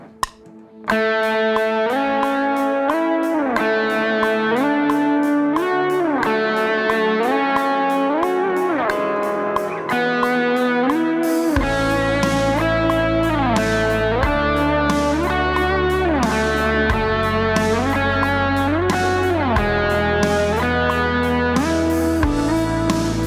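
Electric worship-style guitar solo with effects and distortion, melodic lines built only on chord tones over sustained harmony, with a bass and fuller backing entering halfway through; steady, loud, no talking.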